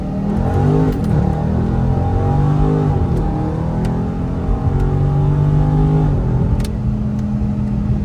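A car drives in paddle-shift mode, its engine droning close and loud from inside the cabin, with pitch rising and falling as it accelerates through the gears.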